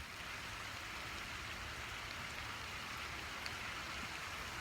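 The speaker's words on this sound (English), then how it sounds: "I mean, it's still raining, but the storm left." Steady rain keeps falling in the dark after a storm has passed, a continuous even hiss of drops that holds at the same level throughout with no voices.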